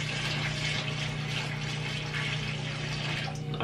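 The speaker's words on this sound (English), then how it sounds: "I'm just gonna go ahead and then pour this water in." Water poured into a semi-aquatic fishing spider enclosure, a steady close splashing and rushing stream that fills the whole stretch without pause.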